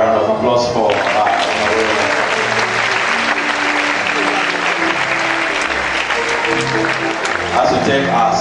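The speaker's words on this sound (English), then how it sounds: "please another round of applause" Lecture audience in Nigeria applauding at an inaugural lecture, dense sustained clapping throughout with a faint voice underneath.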